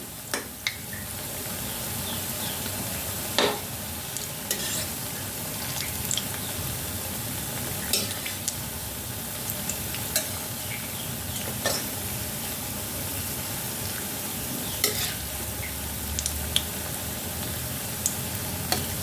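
Milk and banana pitha fry in a pan of hot oil with a steady, soft sizzle broken by occasional scrapes and clinks of a utensil.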